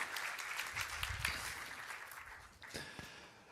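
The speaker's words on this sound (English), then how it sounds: "Round of applause also for Rafał for moderating the session." Applause from a conference audience for a session moderator, a short burst of many hands clapping together at moderate loudness that fades slightly toward the end.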